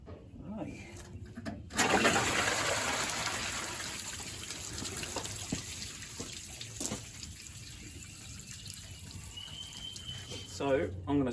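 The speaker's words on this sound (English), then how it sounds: "So I'm going to stick my hose in there and give it a good flush." A garden hose flushes water through a Torana car radiator, a steady rushing gush that starts abruptly and fades slightly, with a few faint clunks and a voice near the end.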